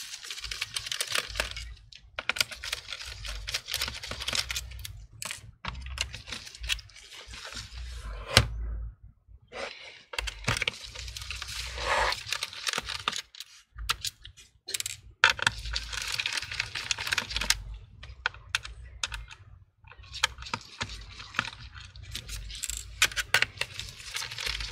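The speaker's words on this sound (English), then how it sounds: "Let's go ahead and remove all the screws here." A Phillips screwdriver backs screws out of an Asus laptop's base panel, making close, busy clicks, ticks and small metallic rattles that run in bursts with short pauses.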